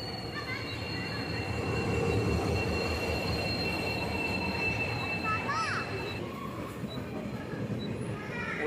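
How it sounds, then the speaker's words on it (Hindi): The Udhampur Express running on rails, a loud continuous rumble of wheels and carriages with brief high wheel squeals midway, heard from close by. "उधमपुर एक्सप्रेस"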